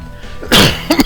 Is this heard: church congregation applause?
no